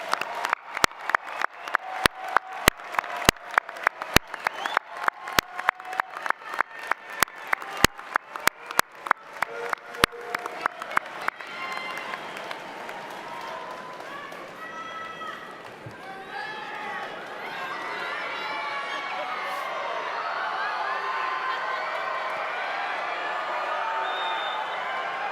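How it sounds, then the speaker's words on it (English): A large graduation ceremony audience at a UCF fall commencement applauds the graduates' guests, with rhythmic clapping giving way to broad sustained cheering and crowd noise filling the hall. "let's give them resounding applause for thanks"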